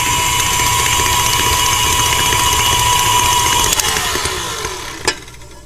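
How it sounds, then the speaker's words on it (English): Electric stand mixer whipping butter and eggs for a pumpkin pound cake batter, a steady close whirring motor hum that slows and winds down near the end with a small clunk. "you're going to dump them one at a time in the mixer while the butter is whipping"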